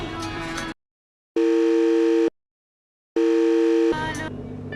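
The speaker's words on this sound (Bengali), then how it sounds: "ফোন করে আবার কেটে দিচ্ছে।" Repeated electronic telephone tone heard after a caller hangs up, two steady beeps of about a second each separated by silence, loud and clear between bursts of other sound.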